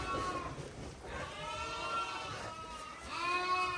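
Lambs bred for breeding stock bleat in a farm pen, several overlapping calls rising and falling over a steady background of movement and rustle, fairly close and continuous.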